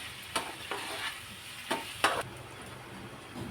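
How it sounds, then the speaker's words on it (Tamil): Vegetables sautéing gently on a low flame, a soft, quiet sizzle broken by a few sharp scrapes and taps of a spoon against the pan. "சிம்மிலேயே வச்சு வதக்கணுங்க"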